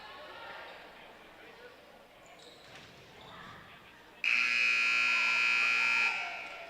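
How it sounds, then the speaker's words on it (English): Gym buzzer at a high school volleyball match, a loud sustained electronic blare lasting about two seconds after a stretch of crowd and court noise. "And with the buzzer, we're ready to go."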